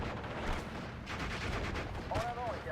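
Anti-tank gun firing in the WWII strategy game Steel Division: Normandy 44, a dense rumble of booming gunfire and distant explosions with a brief whistling sweep near the end, continuous battlefield noise throughout.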